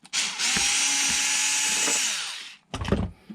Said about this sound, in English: So I'm going to go ahead and put these screws right back in.